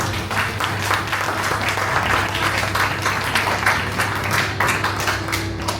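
An audience at a classical Indian music concert applauds steadily, a full, continuous clapping with a faint low hum beneath, no voices on top.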